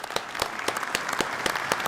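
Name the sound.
applause at a NATO conference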